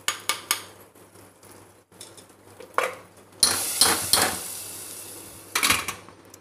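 Hot tempering with fried onion vadagam is poured into a pot of black bean kootu gravy and the lid is clapped on, giving sharp metallic clinks, a brief sizzle and a loud hissing burst, with no talk.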